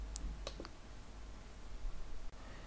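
A few quick computer mouse clicks on a desk during architectural modeling software work, two or three close, crisp ticks early on, then quiet room tone.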